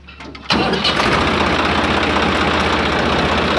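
A Swaraj 855 tractor's diesel engine cranks and catches about half a second in, then settles into a loud, steady, rumbling run with a knocking throb and no talk.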